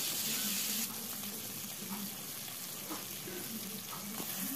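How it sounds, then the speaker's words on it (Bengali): Pomfret fish frying in hot oil for a curry, a steady close hiss with a watery, running-tap texture throughout, no talking. "এবার এই তেলের মধ্যে আমি দিয়ে দিলাম পমফ্রেট মাছ। মাছটাও ভেজে নেব"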